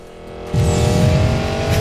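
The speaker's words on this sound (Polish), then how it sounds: "jaki efekt nitra" A car's nitro boost kicks in during the Need for Speed Payback racing game: the engine drone suddenly jumps into a louder, deeper, sustained roar that holds steady to the end.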